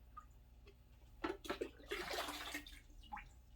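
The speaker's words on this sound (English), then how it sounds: "just basically submerge the whole bucket in the water and then dump it out" A submerged bucket of water being dumped into a 29-gallon community aquarium, heard as a brief gush and splashing swirl in the middle, faint and close over a low steady hum.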